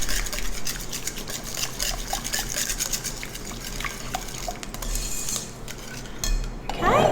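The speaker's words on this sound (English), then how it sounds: "So just give that a nice whisk." Mashed pumpkin mixture being whisked in a bowl, a steady run of close scraping and clinking strokes with a louder clatter near the end.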